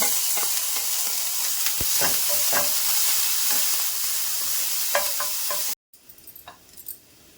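Crushed garlic sizzling in hot oil in a pan, a bright close hiss with scattered crackles and a few stir clicks, cutting out abruptly before quieter spitting resumes.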